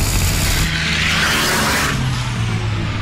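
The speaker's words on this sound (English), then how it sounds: "Here in the background, our truck's coming." The Iron Knight record-breaking truck approaching at speed, a loud steady roar with a rising whoosh that swells and builds as it nears, with no talking.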